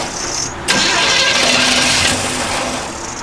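A 1972 Chevrolet Malibu engine cranks and catches, its starter whine giving way to a loud, close, rough idle that settles and holds steady.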